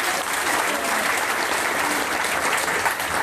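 An audience gives a speaker a burst of enthusiastic applause, many hands clapping densely and evenly at close range for the whole stretch.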